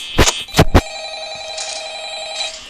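A phone rings in the video game Five Nights at Freddy's, with a few loud bell-like rings at the start followed by a steady sustained electronic tone.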